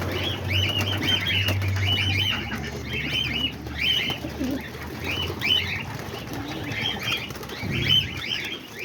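Homing pigeons flap their wings in repeated bursts, with soft cooing and bird calls mixed in, heard up close and steady throughout.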